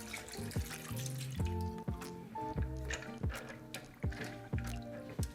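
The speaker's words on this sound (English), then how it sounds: "we're gonna pour some water in the pan" Tap water poured into a pan of cavatappi pasta, with close bubbly gurgles and splashy drips that come in a quick uneven rhythm, sounding hollow against the pan and with no talking.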